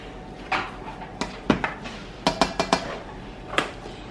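Spoon or spatula scraping and knocking against a pan while rice and minced beef are stirred together, a handful of sharp clinks spaced irregularly over a steady kitchen background.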